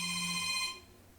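A mobile phone ringtone sounds for an incoming call, a bright electronic ring that plays loudly for under a second and then cuts off, with no voices.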